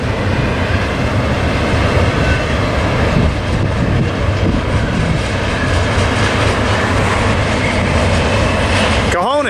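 A Union Pacific double-stack freight train hauled by GEVO and AC4400 locomotives rolls past loudly and close, a sustained rumble with clattering wheels over the rails throughout, ending in a brief rising tone.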